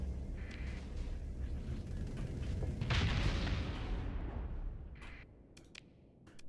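Missile explosions in the space combat game Starsector form a loud, continuous rumbling barrage that swells to a peak midway and fades, followed by a few sharp bursts near the end.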